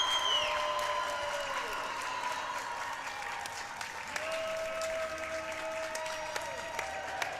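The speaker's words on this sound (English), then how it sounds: "And the Hope crowd will applaud." A hockey crowd at a Vezina Cup final trophy ceremony, Hope Flying Dutchmen against Lawrence Tech, applauds in a steady, dense wash of clapping and cheering that holds for the whole stretch, with faint voices mixed in.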